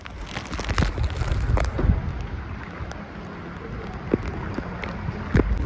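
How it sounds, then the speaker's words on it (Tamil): Strong cyclone wind roars and gusts continuously during Cyclone Michaung in Chennai, mixed with rain noise and occasional low rumbles and thuds, loud and close. "காற்று பாருங்க எப்படி அடிக்குது."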